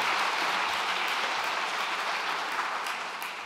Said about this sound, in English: let's give a round of applause for all the folks who donated crafts